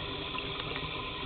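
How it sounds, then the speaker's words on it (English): Water from a vacuum aspirator apparatus runs steadily into a kitchen sink drain, a continuous close splashing rush with no talking. "The water's just running down the drain"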